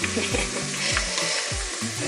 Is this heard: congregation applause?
no